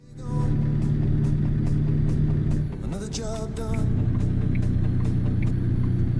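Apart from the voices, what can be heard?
truck engine growling in American Truck Simulator video game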